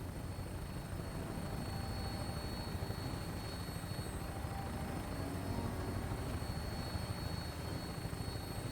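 A Vertibird helicopter in the video game Fallout 4 drones continuously with a loud, steady rotor and engine roar, unchanging throughout.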